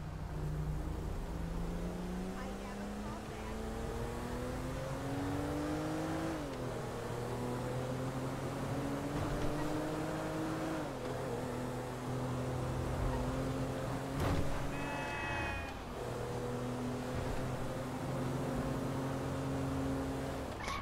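A car engine hums steadily as the vehicle drives past outdoors, its pitch rising and falling through several gear-like shifts over a long stretch, with faint wind and no clear talk.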